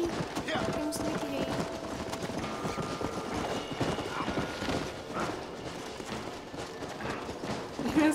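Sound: horse hooves clip-clopping in a video game

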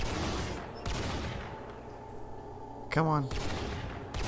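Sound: gunfire in the video game RimWorld

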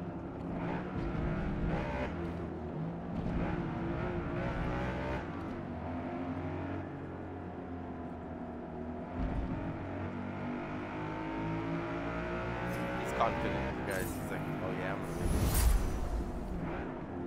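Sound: BMW and Audi cars racing in Forza Motorsport video game

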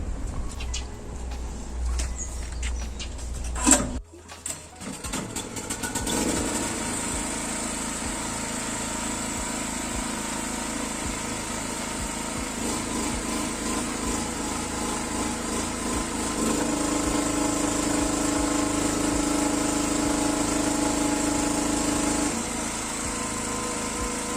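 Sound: Zegor 3.3 kW gas-petrol generator running under 3 kW load

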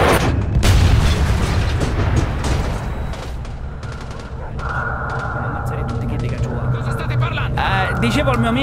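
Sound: artillery explosions in Mafia II video game

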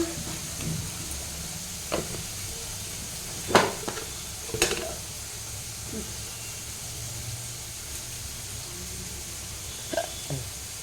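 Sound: paneer frying in a pan with turmeric and salt

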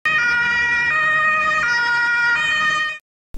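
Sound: police quad siren

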